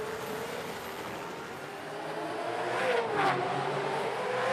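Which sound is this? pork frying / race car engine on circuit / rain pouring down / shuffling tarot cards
race car engine on circuit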